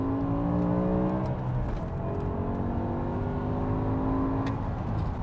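A BMW E61 M5 Touring V10 engine revs loudly and steadily up and down, a deep throaty roar with rising whine, heard close throughout without any talking.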